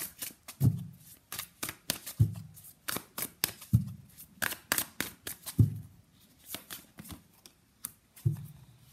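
Tarot cards are shuffled and drawn nearby in a quiet room, giving repeated crisp riffling bursts and soft flicks and snaps in an uneven rhythm, with no voices.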